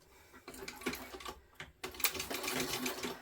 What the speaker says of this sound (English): I'm just going to sew right up the middle.